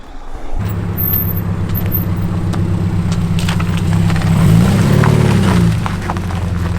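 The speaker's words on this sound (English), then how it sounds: "That Subi is insane. It's so fast, and it sounds amazing." A 600 WHP Subaru WRX fitted with nitrous idles with a loud, deep, lumpy rumble, swelling briefly as the revs rise and falling back, close by.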